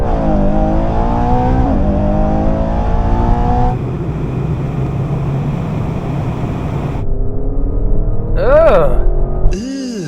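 Aston Martin and Ferrari accelerating hard side by side in a race, loud rising engine notes with gear shifts, a steady roar midway, then a sharp revving burst near the end.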